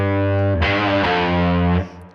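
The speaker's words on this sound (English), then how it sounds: "let's just do some fuzzy power chords" Fuzzy, heavily distorted power chords on a Yamaha Revstar electric guitar, a sustained chord struck again twice before cutting off, thick and loud with no voices.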